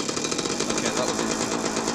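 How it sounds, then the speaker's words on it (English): A Jawa Typ 05 engine with a freshly cleaned carburettor fires up and runs close by with a fast, rattling two-stroke putter that stays steady for the whole moment. "The moment of truth, first start with a freshly cleaned carb."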